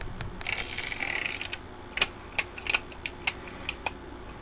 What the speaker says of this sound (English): Half cock, full cock, works just fine